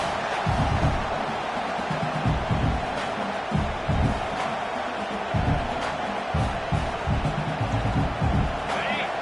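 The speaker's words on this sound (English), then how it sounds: "This crowd bringing the energy and noise early." A football stadium crowd roars throughout as a broadband wash of noise, while a play-by-play commentator talks over it in near, steady bursts.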